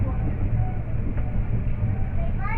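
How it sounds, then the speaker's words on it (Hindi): A WDG4G diesel goods locomotive and train rumble past at an Indian station, a steady low heavy rolling drone with a faint horn-like tone at the end. "WDG4G goods locomotive"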